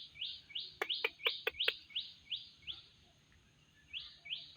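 A pet myna bird calling, a series of sharp bright chirps and whistles repeated in short bursts, including a quick run of clicky notes, close and clear with no talk.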